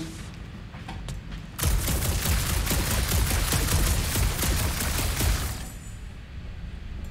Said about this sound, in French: Tire avec ma nouvelle fonction rapide pour pas que ça régénère